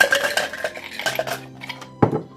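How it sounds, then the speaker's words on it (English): Ice clatters into a blender jar while making a fruit cocktail smoothie, a series of close, hard clinks and rattles with a sharper knock near the end. "So I'm gonna put a little bit of ice in there."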